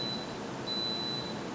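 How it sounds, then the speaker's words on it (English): A Waring vertical waffle maker gives a ready signal: two thin, steady electronic beeps, the second longer, sounding alone over faint room hum. "it will beep when it's ready"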